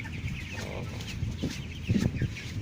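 Broiler chickens cluck on a chicken farm, a steady low murmur of many birds with a few louder clucks toward the end, no voices.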